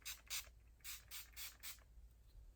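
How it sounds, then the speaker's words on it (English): Urban Decay All Night setting spray misted from its pump bottle: six quick, soft hissing spritzes in a fairly even rhythm, close and quiet in an otherwise still room. "All Night Setting Spray."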